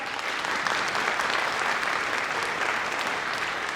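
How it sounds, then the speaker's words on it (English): Warm, sustained applause from a school holiday concert audience recognising the music staff, with many hands clapping in an even, full-room wash without a break. "Give them a round of applause as well."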